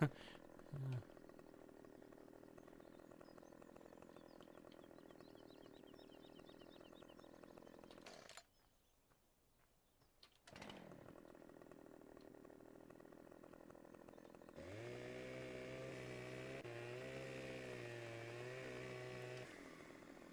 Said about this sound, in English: Will it even cut with a chainsaw?